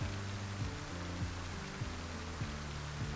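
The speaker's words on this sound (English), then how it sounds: "Take advantage of the rain." Steady broadband rain hiss from the game Project Zomboid, continuous and even, with low repeating tones from the game playing underneath, no talk.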